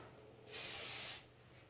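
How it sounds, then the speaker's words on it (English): A single short hiss of a light oil spray misted onto hair from a can held at arm's length, lasting under a second against a quiet room. "just do a light, you know, a very light spray"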